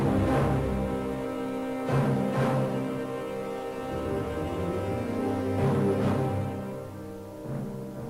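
Music from the Amiga racing game Super Cars, a steady synthesized tune with a low thumping pulse and repeating beats, playing on its own without speech.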